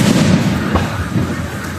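Fireworks bang and crackle at a barangay outing at a resort villa, a dense run of booms and pops that carries on through the whole moment, with faint voices underneath.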